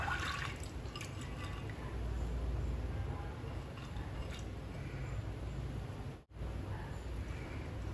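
Water streams steadily into a pot over cowpeas soaked overnight, a continuous close splashing pour with a brief break near the end before it resumes.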